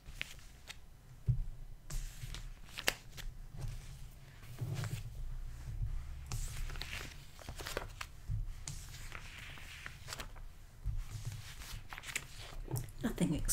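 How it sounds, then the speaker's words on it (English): Plastic pages of a scrapbook album being turned, giving soft rustling crinkles and occasional light taps in a steady close-up sequence, with quiet low background noise throughout. "I just like the sound of the pages turning."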